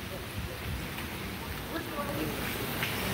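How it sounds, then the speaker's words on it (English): Steady rain pouring down at night in downtown Charleston, a dense continuous hiss of drops on surfaces, fairly loud and close, without a break. "Holy moly, it's raining."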